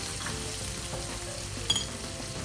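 Half a teaspoon of garlic frying in a pan while cooking glutinous rice, a steady close sizzle with a brief stir of the spatula partway through.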